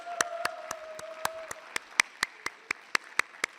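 A church congregation claps together in a slow, even rhythm, about four claps a second, each clap sharp and distinct, with a faint sustained tone underneath at the start.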